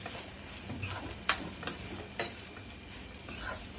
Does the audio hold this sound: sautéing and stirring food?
yes